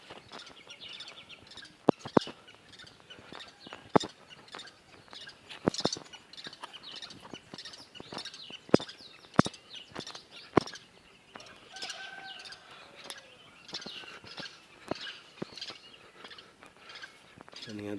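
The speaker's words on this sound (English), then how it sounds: "Birds are singing their melodious songs." Birds sing outdoors in Narok town, Kenya, sounding as scattered sharp chirps and short calls over a quiet, faint background. The calls come at irregular intervals and no voices are heard.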